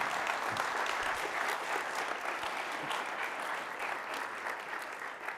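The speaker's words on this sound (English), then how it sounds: "please give a last round of applause for Michael Saylor and Adam Bach" Sustained applause from a sizable crowd, dense and even throughout, fading slightly toward the end.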